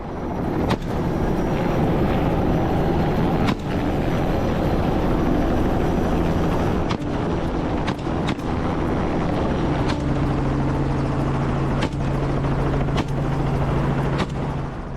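A steady, heavy helicopter rotor drone fills the scene during a helicopter hunt, loud and continuous, with sharp cracks like gunshots popping out at irregular intervals.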